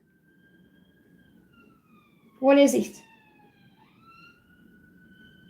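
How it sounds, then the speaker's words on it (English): An ambulance siren wails faintly in the distance as a steady, gliding tone throughout, briefly covered by a short spoken question near the middle. "Ambulance."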